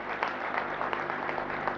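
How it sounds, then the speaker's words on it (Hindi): An audience claps steadily at a Jain religious discourse given by Tarun Sagar Ji Maharaj, a faint, even patter of many hands from a seated crowd, continuing without pause. "ताली बजा दो, अच्छा लगेगा।"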